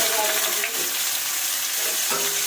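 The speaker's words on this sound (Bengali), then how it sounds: "এবার এঁচড়টা আমি ভেজে নেবো সুন্দর করে" Pieces of young green jackfruit fry in hot oil in a wok, giving a loud, dense, close-up sizzle that hisses continuously without pause. No one speaks.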